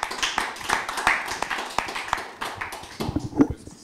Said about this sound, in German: Herzlich willkommen, Applaus.